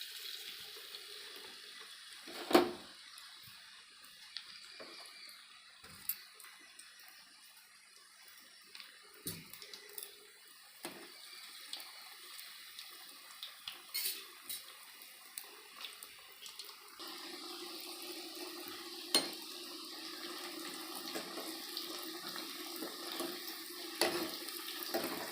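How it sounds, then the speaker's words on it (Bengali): Lentil batter fritters frying in hot oil, a faint steady sizzle and bubbling with occasional soft clinks and pops, close and quiet throughout. "তেল গরম হয়ে গেছে, আমি তেলে দিয়ে দেবো।"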